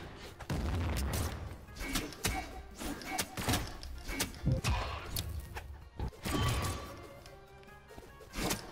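Ray gun fire in the Brawlhalla fighting game, a busy stream of zapping shots, booms and impacts with rapid irregular hits throughout, fairly loud and crowded.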